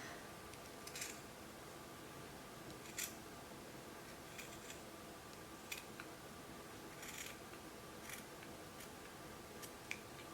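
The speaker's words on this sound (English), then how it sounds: "My scissors aren't too sharp right now." Quiet, close snips of blunt scissors trimming tassel threads for earrings repeat at an irregular pace, about a dozen cuts in all, with no talking.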